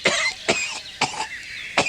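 A person coughs four times in quick succession, sharp close hacking bursts with short gaps between them.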